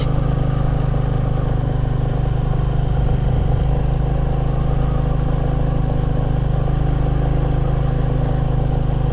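A Royal Enfield Classic 350 single-cylinder motorcycle runs steadily at close range, a continuous low, throbbing engine note holding constant with no voices.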